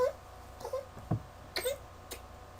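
Several short, high-pitched dog whimpers and whines come in separate bursts with quiet gaps, fairly close and moderately loud.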